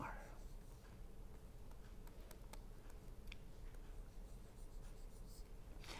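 A pen scratches across a writing surface while an ideal transformer diagram is drawn during an engineering lecture, faint ticking strokes and short scrapes heard close over a steady low background hiss, with no talking.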